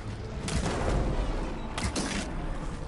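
Fireworks explode in the video game Horizon Forbidden West as a dense, rumbling crackle of bursts, with two sharper blasts standing out against a steady roar, loud and with no speech.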